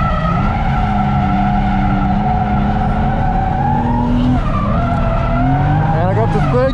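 A Toyota JZX100 Mark II drifts in second gear at Nikko Circuit, its engine droning loud and steady with rising and falling revs and tire squeal throughout, close and continuous.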